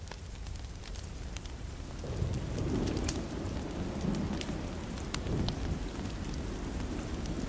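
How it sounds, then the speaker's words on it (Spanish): Steady rain falls throughout a rainy scene in The Walking Dead Season 2 video game, with a low rumble of thunder swelling in after about two seconds and lingering underneath. "Está que se pone a llover"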